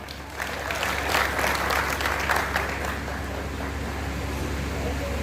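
Audience applause at a Hindi kavi sammelan poetry recital, steady dense clapping across a hall, moderately loud with a low background hum, sustained throughout.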